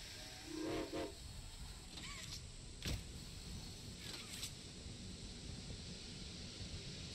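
A train in the horror game Poppy Playtime Chapter 2 lets off a steady wash of steam hiss throughout, with brief faint whistle-like tones and a sharp click near the middle.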